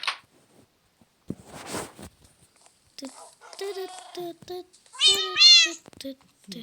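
A cat meows several times, short close cries in a quiet room, with brief rustling in between.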